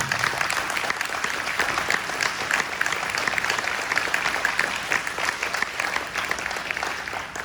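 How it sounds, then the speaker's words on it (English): Full audience applause at a county sheriff's candidate debate in DeKalb County, Georgia, dense continuous clapping from a sizable crowd, loud and steady from start to finish with no speech over it. "could we give all of our candidates a round of applause?"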